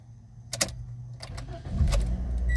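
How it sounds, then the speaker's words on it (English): A warm Toyota Corolla, a car with a starting fault, is started with a key: keys jangle, the starter cranks briefly, and the engine catches and settles into a steady close idle. "It starts right up."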